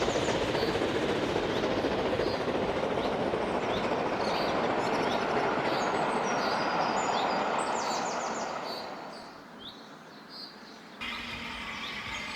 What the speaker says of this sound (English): The sound effect there is taken from a video of the Duchess of Sutherland.